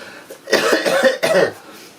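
A person coughs twice in quick succession, close and loud, with a short pause between the harsh bursts.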